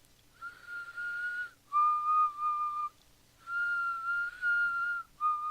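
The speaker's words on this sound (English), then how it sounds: "For example, Negan's whistle, and I agree with that." Negan's whistled tune from The Walking Dead: a clear, eerie melody of sustained, steady notes in two separate phrases, alone over near silence.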